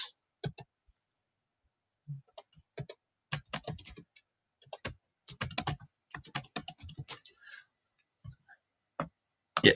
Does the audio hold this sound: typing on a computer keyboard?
yes